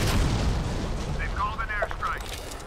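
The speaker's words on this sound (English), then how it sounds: "They've called an airstrike. Oh, airstrike is not good." Airstrike explosions in the shooter game Modern Combat 5 rumble as a heavy, sustained blast and boom, loud and close, followed by brief whistling game effects as the roar fades.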